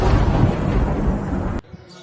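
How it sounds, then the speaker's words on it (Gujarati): Thunder crashes with lightning during a sudden windstorm. A loud, heavy, rolling rumble fills the clip, then cuts off abruptly, leaving faint background noise. "વીજળી સાથે કડાકા ભડાકા થઈ રહ્યા છે।"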